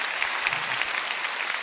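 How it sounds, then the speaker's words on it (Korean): A crowd at a church Easter resurrection skit claps steadily, with dense, even applause filling the whole moment and no voices on top. "박수하겠습니다"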